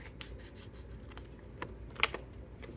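Scissors snip paper corners off for a junk journal: a few quiet, brief cutting snips and rustles over a low background hiss, close by.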